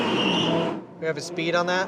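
An Audi R8 brakes hard from 83 mph at an indoor speed record attempt, its loud engine roar fading into tire noise while a person asks a short question over the sound.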